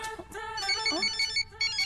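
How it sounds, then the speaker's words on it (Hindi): A mobile phone ringtone plays as a bright repeating melodic tone, close and steady, with no talking over it. "मेरा फोन बज रहा है"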